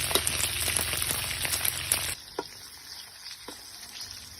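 Sun-dried beef frying in hot oil, a dense crackling sizzle for about two seconds that then drops to a quiet hiss, with a few sharp pops afterward.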